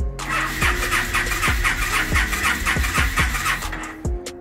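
A Yamaha V-Star 1300 motorcycle engine cranks on its starter without catching, a steady loud whir broken by regular compression pulses, close and continuous for several seconds before cutting off.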